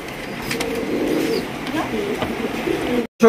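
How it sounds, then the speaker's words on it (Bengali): A pair of pigeons coo in soft, low repeated calls close by at a pigeon sale, a steady throaty murmuring that cuts off abruptly near the end. "এখানে রয়েছে খুবই সুন্দর এক জোড়া কবুতর"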